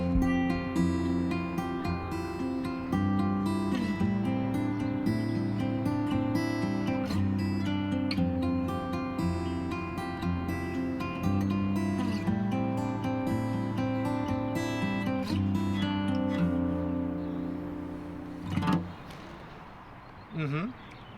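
A guitar plays a simple riff slowly, with clear picked notes ringing one after another at a moderate volume, then trailing off near the end.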